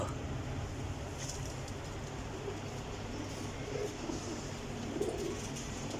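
Pigeons coo in a loft where birds are kept for flying, a steady low murmur running under a dense, noisy background throughout.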